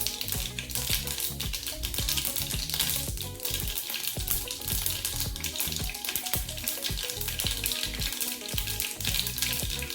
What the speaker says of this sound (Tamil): அரை ஸ்பூன் கடுகு போட்டாச்சு.